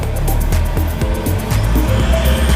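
The engine of an Isuzu D-Max pickup fitted with an HHO generator revs loudly up close as the accelerator is pressed, a rising, wavering roar that holds high throughout.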